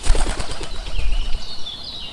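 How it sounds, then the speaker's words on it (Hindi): A cockatoo takes off with a burst of loud, rapid wingbeats close by, then soft chirping calls trail away as it flies off. "ये सोचते हुए काकातुआ टूनी चिड़िया की ओर उड़ चला।"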